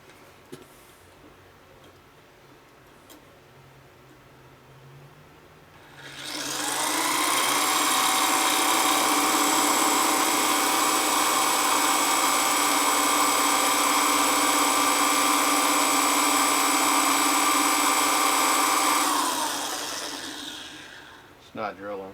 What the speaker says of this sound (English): Let's see how good this thing drills.